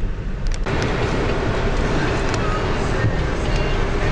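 A 2005 VW Jetta TDI cruising on the highway, its steady loud broadband road and engine roar filling the cabin continuously with no break.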